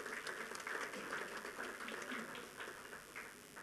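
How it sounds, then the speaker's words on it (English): A round of applause for golf day participants at a conference opening ceremony: scattered, distant-sounding clapping from an audience, fairly faint and sustained for a few seconds. "I think we should get a round of applause for all those who participated in the golf."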